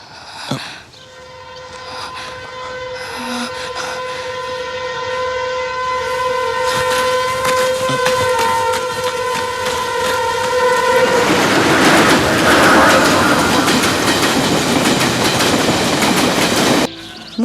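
A train passing in the afternoon, opening with a long sustained horn blast, then rising clickety-clack of wheels and rushing wagons that grows louder and fills the end.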